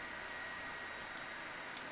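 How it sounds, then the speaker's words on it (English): A fan runs steadily behind, a faint, even broadband hiss of moving air with no variation over the short stretch and no other sound on top. "I apologize for the fan in the background"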